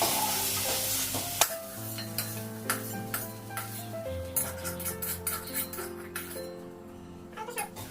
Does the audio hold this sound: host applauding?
no